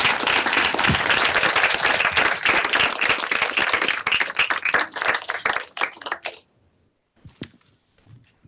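A summit audience gives dense, loud applause after a presentation, the clapping sustained for several seconds before thinning out and stopping. Only a few faint scattered sounds follow.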